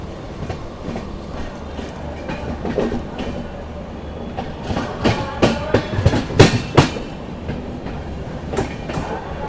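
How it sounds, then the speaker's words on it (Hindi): The Goa Sampark Kranti Express running near Mathura Junction, a continuous rumble with rhythmic clickety-clack of wheels over rail joints, growing louder and sharper midway, heard from on board with no talk. "ट्रेन स्किप करने जा रही है मथुरा जंक्शन"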